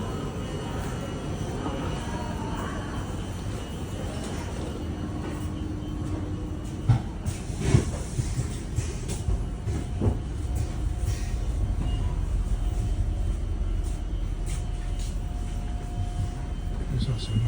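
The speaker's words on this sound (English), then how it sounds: "Alright, it's my train." Regional train pulling into a station in Italy, a low rumbling approach building gradually with a couple of clanks and brief squeals, heard at moderate distance over station ambience.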